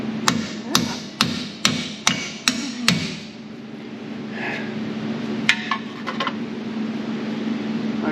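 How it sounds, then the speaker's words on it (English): Hammer blows on a bolt under a Chevy squarebody truck, seven sharp metallic strikes in a steady rhythm, close and loud, followed by quieter clinks and shop noise. "beat the piss out of it with a hammer on the other"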